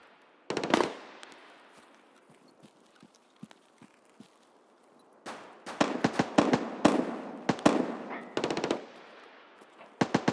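Video game gunfire, with sharp bursts of automatic rifle fire at the start and again in a dense stretch over the second half, plus scattered single shots in between, fairly loud against a quiet background.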